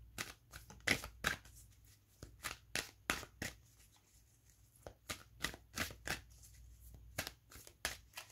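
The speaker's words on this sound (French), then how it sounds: "Et on va prendre une carte pour son énergie." Tarot cards are handled and drawn one by one, a run of close, crisp slaps and rustles in uneven bursts with short pauses between.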